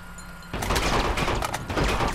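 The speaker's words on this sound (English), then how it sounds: "he's shooting at me!" Gunfire in Uncharted 2: Among Thieves, a sudden dense burst of shots that erupts after a quiet half second and continues as a loud, rapid volley with sharp cracks.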